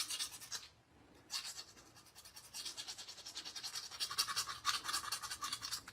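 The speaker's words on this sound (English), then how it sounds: "just get you a small round pin file, and you could file that opening just a little bit bigger if you need to." A small round pin file rasping to enlarge an axle opening in a 1/64 scale Ertl toy combine, rapid repeated close strokes with a brief pause near the start.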